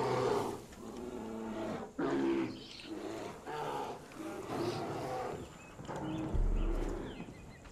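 Bears and wolves growl and roar in the Far Cry 5 video game, several rough animal calls in bursts mixed with game sounds and someone talking over them.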